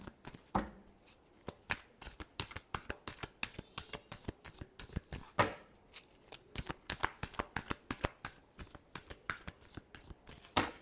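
Tarot cards shuffled by hand in a rapid run of crisp riffling flutters and snaps, close and fairly quiet, with no talk over them.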